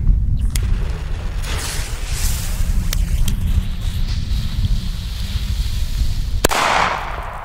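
A Der blaue Berber New Year's firecracker goes off with a few sharp cracks and one loud bang near the end, set against steady outdoor wind-like rumble, heard outside.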